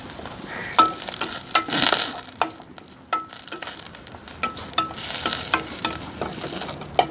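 Herbs and ginger sizzle and crackle in a hot pan, with sharp stirring clinks and scrapes of a utensil recurring irregularly throughout, no talking.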